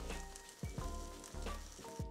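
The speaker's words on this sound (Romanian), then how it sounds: "Prăjim pancake-urile pe ambele părți." Vegetable pancakes fry in butter in a hot pan, giving a soft, quiet sizzle that swells in short repeated bursts, with no talk.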